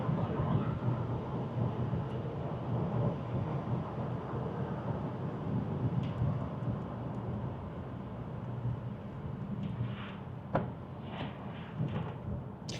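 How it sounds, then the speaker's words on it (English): Inside a 2010 diesel four-cylinder Renault Laguna Coupe at speed, a steady low roar of tyre and road noise fills the cabin, with a few faint knocks and rattles and no talking. "I'm thinking about the noise levels from the tires mostly, not really from the engine."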